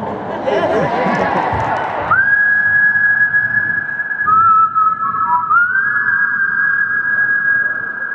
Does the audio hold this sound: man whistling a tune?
yes